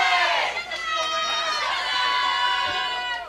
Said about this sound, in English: That is Wright State making all that noise.